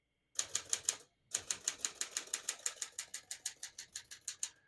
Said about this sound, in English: We're going to keep that on single for now and finish typing.